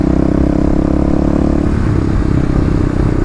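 A Kawasaki KLX351 dirt bike ridden during break-in, its engine a steady, loud, close drone that holds an even throttle without pause for the whole stretch.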